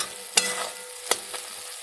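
Marinated mutton going into hot oil with fried onions in a kadai, a low constant sizzle broken by several sharp, close clacks of a spoon against the pan.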